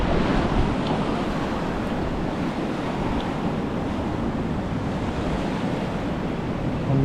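Sea waves wash steadily onto the shore as the tide begins to go out, a continuous loud surf with some wind buffeting the microphone and no voices.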